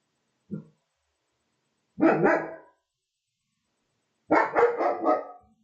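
A dog gives a short yip and then two harsh bark bursts, loud and close, separated by silence.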